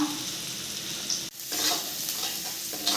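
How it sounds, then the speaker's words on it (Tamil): Garlic and ginger frying in a pan for prawn Manchurian give a steady close sizzle with a brief dip midway, then the crackle resumes at even strength, with no talking. "பாருங்கள், பூண்டு இஞ்சும் நல்லா ஃப்ரை ஆகிக்கிட்டு இருக்கு"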